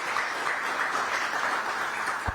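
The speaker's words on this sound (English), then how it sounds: "Let's give a huge round of applause to the Chief Minister." Audience applause for a state Chief Minister at a book launch event, a steady, even wash of clapping from a crowd, moderately distant and fairly quiet, with no talking over it.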